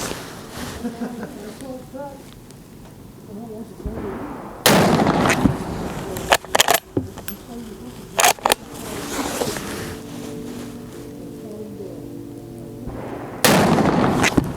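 Rifle gunshots at an outdoor shooting range, heard as several sharp, loud reports spaced apart, some nearby and some more distant, with people talking between the shots.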